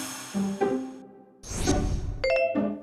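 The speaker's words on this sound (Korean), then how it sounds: "옆에 돌을 가지고 이래 땅땅 치면은 돌 소리가 나는 게 아니라 종소리가 땅땅땅" A rock at Maneosa temple in Miryang, struck with another stone, rings like a bell: a few sharp metallic strikes with clear sustained tones, separated by brief gaps and some shuffling noise.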